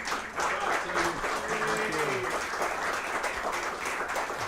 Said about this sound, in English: Give these guys another round of applause.